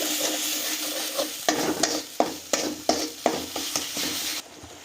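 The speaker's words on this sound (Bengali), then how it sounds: "আরও কিছুক্ষণ আমরা মশলাটাকে খুব ভালো করে ভাজা করে নিচ্ছি" Spice paste for a fish curry sizzles and fries steadily in a pan, with a series of sharp scraping stirs punctuating the hiss before it quiets near the end.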